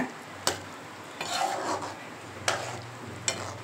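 A spoon scrapes and stirs through a thick, bubbling dried-fish curry in a pan, with a few sharp clinks against the metal over a low simmering hiss.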